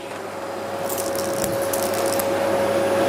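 A Philips Performer Ultimate vacuum cleaner runs steadily and loudly at close range while sucking up small grits, with a constant motor whine and a brief burst of rattling debris in the middle.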